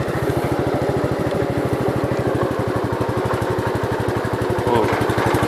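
A 1967 Gravely 430 walk-behind tractor engine runs in low gear through a muddy garden. It gives a steady, fast, even chugging throb, loud and close, with no voices.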